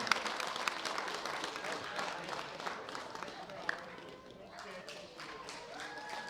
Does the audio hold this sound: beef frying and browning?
no